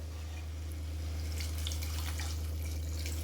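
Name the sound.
water being poured into potato poriyal while cooking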